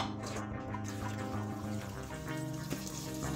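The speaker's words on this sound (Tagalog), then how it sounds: "Siyempre, lalagyan natin ng tubig yan." Water runs steadily into a cooking pot holding black beans. The pour is a continuous, fairly close rush and splash, heard alone without talk.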